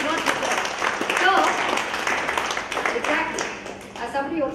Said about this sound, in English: Please give a strong round of applause